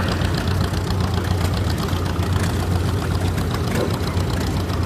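A 1949 Ford 8N tractor engine runs steadily at a parade during a threshing show, with a continuous low, throbbing idle that stays loud and close throughout, without talk.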